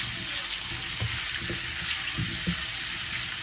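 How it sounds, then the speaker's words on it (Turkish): Butter sizzles and fries steadily in a pan for an egg dish, a soft continuous crackle with a few brief stirring knocks, no talk. "Tereyağını hala şöyle güzel pişiriyorum, kavuruyorum."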